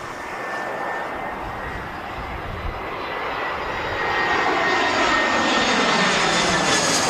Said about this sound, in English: An EasyJet A320 spent the day on practice manoeuvres around Teesside Airport